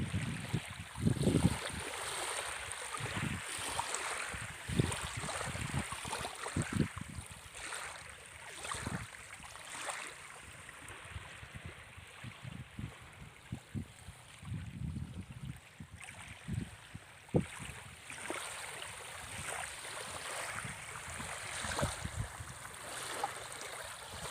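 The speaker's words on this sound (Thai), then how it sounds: "ฟังเสียงคลื่นครับผม เสียงคลื่นทะเลครับผม" Water sloshing and lapping continuously against the shore of Pa Sak Dam reservoir in Thailand, with a steady broadband wash and occasional gentle splashes, no voices.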